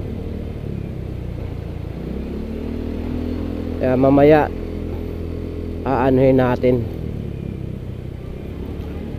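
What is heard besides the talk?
motorcycle riding through floodwater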